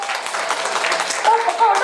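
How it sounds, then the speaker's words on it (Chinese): An audience at a ceremony applauding, a dense, continuous wash of clapping with a voice speaking over it. "来，热烈掌声！"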